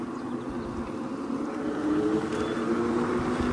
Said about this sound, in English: You can hear that motor whine.